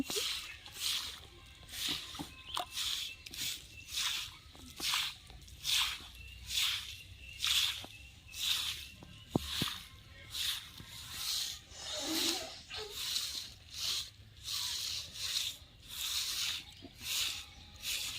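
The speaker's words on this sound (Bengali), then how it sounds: "আমার মা উঠোনটাকে গোবর জল দিয়ে নেপে নিচ্ছে" A courtyard floor smeared with cow dung water by hand, giving soft, wet squishing strokes in a steady repeating rhythm, close by and moderately quiet, continuing for the whole stretch.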